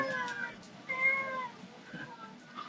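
Cats meowing close by, several short mews in a row with small pauses between them, fairly quiet against a hushed background.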